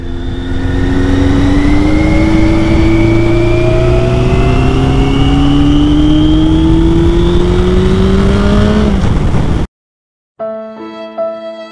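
A car accelerating hard in Toulouse traffic, its engine note climbing steadily and loudly through the revs before cutting off abruptly, followed by a brief burst of electronic tones.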